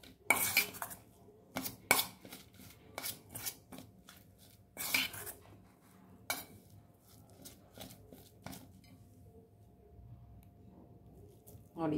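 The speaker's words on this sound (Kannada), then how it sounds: "ಎಷ್ಟು ಬೇಕೋ ಪೌಡ್ರ್ ಹಾಕ್ಕೊಂಡು ಆಮೇಲೆ ಮಿಲ್ಕ್ ಮೇಡ್ ಅದಕ್ಕೆ ಸರಿಯಾಗೋಂಗೆ ಹಾಕ್ಕೊಂಡು ಮಿಕ್ಸ್ ಮಾಡ್ಕೋಬೇಕು" Cocoa powder and Milkmaid condensed milk are mixed in a bowl with a spoon, giving irregular clinks and scrapes against the bowl, fairly quiet, with sticky squishing between strokes.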